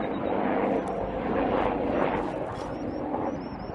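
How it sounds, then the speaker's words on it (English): A helicopter flying overhead makes a steady, loud broadband roar with a rotor throb that holds for a few seconds at close range, with no talking. "See that helicopter"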